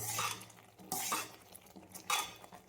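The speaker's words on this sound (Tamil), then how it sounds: "மெதுவாக கொட்டிகிட்டே கிளறணும்" Semolina is stirred as it is slowly poured into a pot, making soft scraping and clinking in separate bursts with quiet gaps, under a faint low sizzle; no one speaks.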